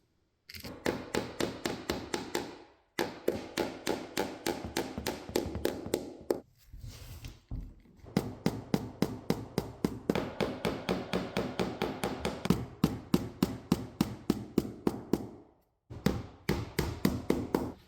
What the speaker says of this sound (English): I'm using nails to hold them back in place